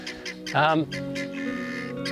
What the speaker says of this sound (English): Oh, got the old guinea fowl over there saying g'day to me.